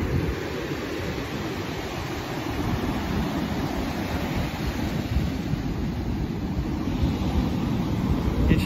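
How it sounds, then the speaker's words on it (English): Ocean surf of the Pacific at Santa Monica Pier, a steady broad wash of breaking waves with wind rumble across the microphone, continuous and fairly loud throughout with no talk. "This is truly an ocean."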